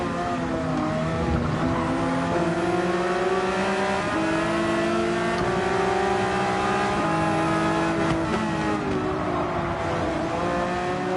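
A race car in a racing video game at Brands Hatch roars continuously at high revs while another car overtakes, with rising and falling engine tones and brief tire squeal, loud and close throughout.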